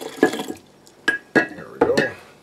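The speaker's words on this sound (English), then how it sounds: "I'm gonna add a little bit more brine." Brine poured into a jar of cucumbers and sourdough-starter ferment, a few short splashing gurgles in separate bursts, close and clear with no talk over them.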